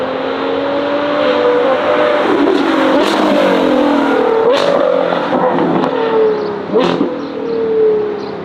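A Novitec Ferrari F12 N-Largo with a 6.3-litre naturally aspirated V12 revs loudly and continuously nearby, its engine tone rising and falling with sharp blips around the third, fifth and seventh seconds.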